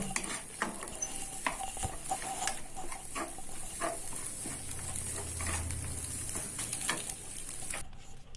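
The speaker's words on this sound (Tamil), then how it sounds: "வெஜிடபிள்ஸ்லாம் நல்லா ஃப்ரை ஆகிட்டுருக்கு" Vegetables stir-fry for fried noodles with a low, steady sizzle, broken by repeated spatula scrapes and clinks against the pan. The cooking sounds play alone without speech.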